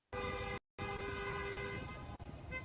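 A car horn honks in a long steady blast, broken by a brief gap and then sounding again, loud and close over a road setting.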